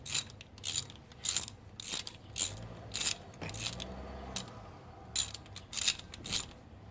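A ratchet wrench tightens down a shiny chrome part while cylinder heads go onto a 5.3 engine, giving repeated bursts of close, crisp clicking with short pauses between strokes.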